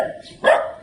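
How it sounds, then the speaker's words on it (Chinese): A single dog bark from outside a door in an animated scene, short and fairly close, heard along with a voice. "此时门外传来一阵狗叫声"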